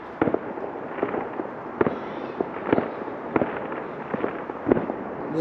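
Bonfire Night fireworks heard from a good distance outdoors in Derby, UK: a steady run of dull thuds and pops recurring every half second or so, moderately loud against a low outdoor hum.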